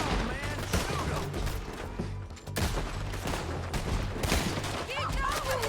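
Rapid gunfire in Red Dead Redemption 2 as a gang drives attackers from a town: overlapping volleys of shots popping continuously at moderate volume, with voices shouting underneath.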